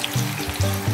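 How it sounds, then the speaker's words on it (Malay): Chopped ginger sizzling and frying in hot oil in a pan, a steady close crackle with swells of sizzle as it is stirred, no voices. "kita goreng dia sehingga naik wangi dan agak sedikit kekuningan"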